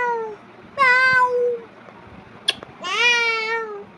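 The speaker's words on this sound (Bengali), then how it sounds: "বিড়াল এসে মেও মেও করে দেয়" A cat meows twice up close: a drawn-out cry, then a brief sharp click and a second, longer meow, with a quiet household background.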